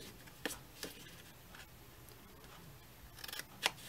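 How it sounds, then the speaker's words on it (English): Scissors cut folded cardstock for a paper gift box, with a few sharp snips spaced out over a faint, quiet background, close and soft. "Grab my scissors here. And we're going to make a cut."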